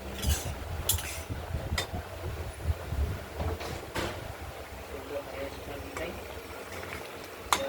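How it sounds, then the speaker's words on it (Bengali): A spoon scrapes and clinks against a pan while ridge gourd is stirred with poppy seed paste, giving intermittent scrapes and knocks over a low, steady cooking rumble. "আবার একটু নেড়ে চেড়ে নিই।"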